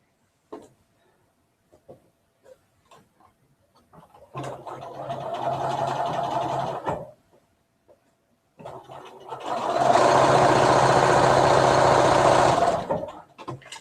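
A home sewing machine stitches webbing for a quilt in two sustained runs, close and steady, the second run louder and longer, separated by a short pause with small handling clicks.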